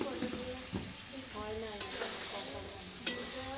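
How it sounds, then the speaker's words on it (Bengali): Water poured into a sizzling pan while the contents are stirred, a continuous frying crackle with two sharp clinks of the utensil, a faint voice speaking in the background. "দেখো এখন জল দিচ্ছে পরিমাণ মতন"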